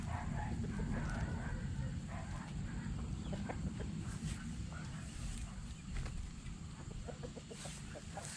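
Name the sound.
chickens clucking while being fed bread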